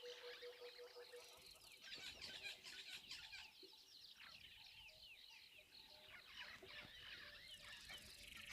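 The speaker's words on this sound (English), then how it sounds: "There's a couple of spearfowl calling now" Spurfowl calling at a waterhole in the African bush: repeated harsh, raspy calls over a few seconds, moderately distant, mixed with other birdsong and an open outdoor ambience.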